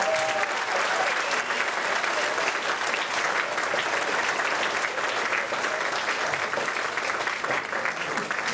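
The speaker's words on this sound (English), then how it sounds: "Can I have a nice round of applause for the 8th graders?" A school auditorium audience gives a sustained, dense round of applause for the 8th graders at a 7th and 8th grade chorus concert. The clapping stays full and steady throughout, with a faint murmur of the crowd beneath it.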